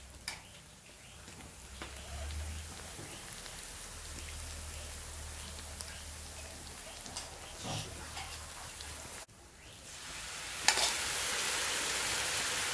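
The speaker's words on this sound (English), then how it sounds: "that's the sizzling you want to hear." Steady crackling sizzle of curry paste frying in a pan, with occasional stirring scrapes and a louder burst of sizzling near the end.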